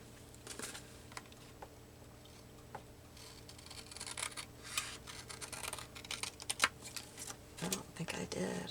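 Scissors snip paper cut out of a junk journal, a series of quiet crisp cuts and rustles close by, growing busier toward the end, with a faint background hum.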